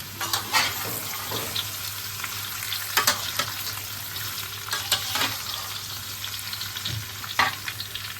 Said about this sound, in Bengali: কেটে রাখা কুমড়ো আর পটল দিয়ে দিলাম